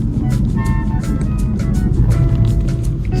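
A car drives along a snowy winter road after a storm, its steady engine rumble and tire noise continuous and close throughout.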